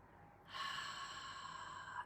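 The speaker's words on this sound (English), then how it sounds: "and now breathe out" A single slow exhale during a guided belly-breathing exercise, a soft, close airy rush that starts abruptly and holds steady for about a second and a half before fading, heard alone.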